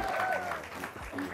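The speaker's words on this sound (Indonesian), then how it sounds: "Boleh tepuk tangan lagi buat Plaza Indonesia" Applause from an audience at the premiere of the film Panggilan dari Kubur in the XX1 cinema at Plaza Indonesia, a short burst of clapping heard under a presenter's voice.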